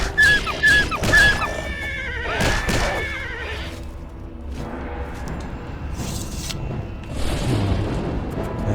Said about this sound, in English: Oh, leave my horse alone.